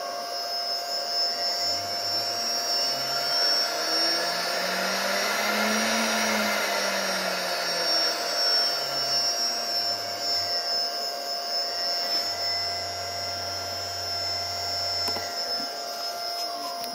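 A spindle motor driven by a 4 kW VFD runs with a continuous high-pitched whine and steady hum, its pitch sweeping gradually up and back down as the speed changes, loud and close throughout.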